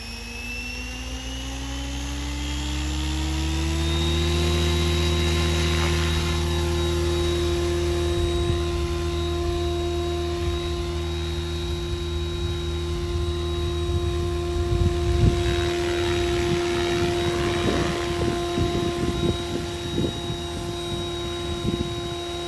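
SAB Goblin 570 radio control helicopter motor spooling up with a rising whine, then holding a steady loud tonal drone, close by with no talk.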